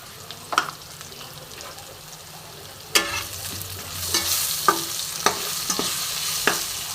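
Potatoes seasoned with salt and turmeric fry in a pan over a gas flame, with a steady sizzle and sharp spatula scrapes and taps against the pan, the hiss growing fuller partway through.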